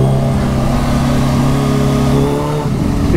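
Kawasaki Ninja H2 motorcycle engine pulling hard under a small throttle opening, a loud, steady mid-pitched drone with rising harmonics that holds close and continuous, then dips briefly near the end.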